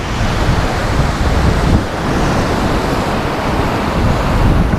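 Strong wind roars on a rough rocky coast at Acadia National Park, mixing with surf into a loud, steady rush of broadband noise that buffets the microphone throughout, with no voices.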